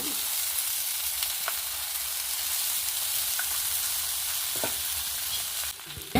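A dosa roasts on a hot pan, giving a steady, close sizzle and crackle that runs without a break and thins out near the end, with no voices over it.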